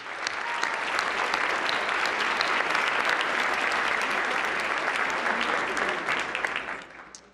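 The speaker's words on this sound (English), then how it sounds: "Let's give Caitlin another big round of applause" Sustained applause from a large dinner audience at the White House Correspondents' Dinner, a dense steady clatter of many hands lasting several seconds before tapering off at the end.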